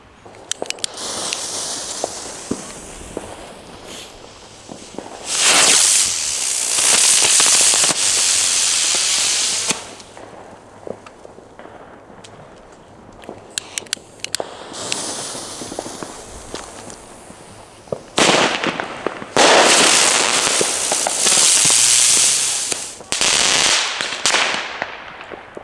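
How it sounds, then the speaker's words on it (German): Funke Feuerfalke ground whirl fireworks with silver and gold effect go off on New Year's Eve, giving several loud, roaring hissing bursts lasting a few seconds each, separated by quieter gaps with scattered crackles and footsteps nearby. "die zwei Neuheiten von Funke, der Feuerfalke. Mit Silber- und Goldeffekt."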